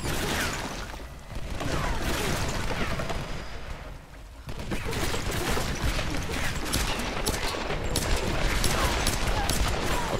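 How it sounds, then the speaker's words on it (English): Heavy gunfire chewing through cover in Tomb Raider (2013), dense rapid shots and impacts crackling nearly nonstop, with a short dip before the barrage resumes loud and close. "My cover's getting shot to pieces."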